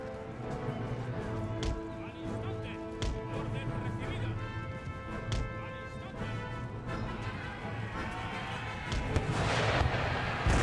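Artillery fire booms and cracks repeatedly in the Napoleonic-era strategy game Empire: Total War, landing over steady battle music while someone talks throughout.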